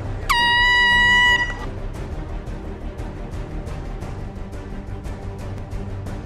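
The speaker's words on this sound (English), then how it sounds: "The song will start on the sound of the air horn." A single loud air horn blast lasting about a second opens a camp color war song event, followed by quieter ambient noise with faint rhythmic taps.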